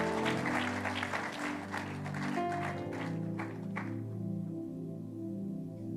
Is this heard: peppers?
no